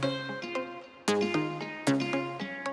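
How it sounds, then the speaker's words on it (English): A short soca melodic phrase of layered plucked notes, a guitar-like tone panned right alongside a bright synth pluck panned left, with a few clear attacks ringing out and no voices. "Just like a guitar on the right, and it's a pluck on the left."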